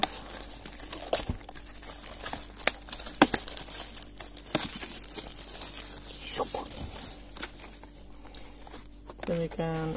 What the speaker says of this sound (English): let's start off by taking the cellophane off